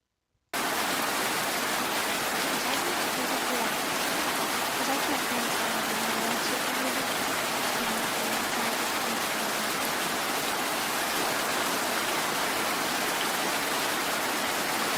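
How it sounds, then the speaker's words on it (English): Steady, even rain on a front porch hisses without pause, a dense soft wash of falling water that holds at one level throughout, with no voices. "What does the front porch rain sound like?"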